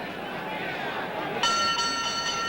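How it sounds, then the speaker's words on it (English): A single bright boxing round bell strikes sharply partway through and rings on, cutting over a murmuring crowd and faint background chatter at a 1971 boxing match. "And there's the bell."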